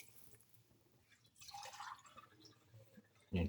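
Water poured into a sautéed eggplant and tomato mixture for a rice casserole, a brief faint trickle and splash in a quiet kitchen followed by a louder knock at the end.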